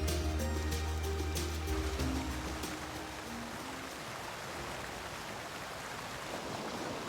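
Light rain over a mountain stream swelling toward rapids on its way down to the valley floor, a steady broadband wash of rushing water with rain hiss, fairly loud and continuous, with a low rumble fading after the first two seconds.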